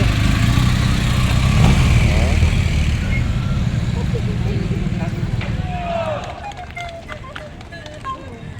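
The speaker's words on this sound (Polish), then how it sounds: "Tutaj jadą motory policyjne." Police motorcycles riding along a city street during a holiday parade, a loud close engine roar that fades as they pass, with people talking over it.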